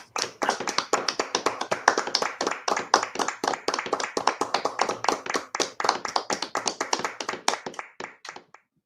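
Applause for colleagues at an Ether Day celebration, heard as sparse, distinct hand claps from a small group in a steady uneven rhythm that thins out and stops near the end.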